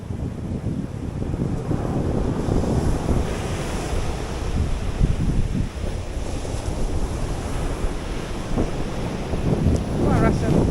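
Waves roll in at high tide, a constant loud surf roar mixed with heavy wind buffeting the microphone, sustained throughout.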